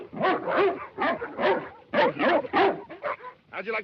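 A sled dog in a 1935 Call of the Wild film scene whimpers and yips, then breaks into a run of short barks, close and moderately loud with brief pauses between bursts.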